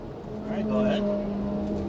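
Lamborghini Gallardo LP550-2 engine pulling under throttle, a rising tonal drone that swells and holds for under two seconds, moderately close.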